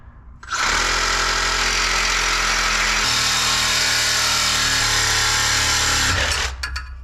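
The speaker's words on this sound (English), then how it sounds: "since the exhaust is such a massive pain in the butt, we're just gonna cut it off" Power saw cutting through the exhaust pipe under a 2003 GMC Yukon Denali, a loud, steady, close grinding whine that holds for about six seconds before cutting off.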